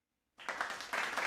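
An audience applauds at the close of an author interview about a fantasy and conspiracy novel, the clapping beginning abruptly after a moment of silence and continuing as a dense, steady patter with no voices over it.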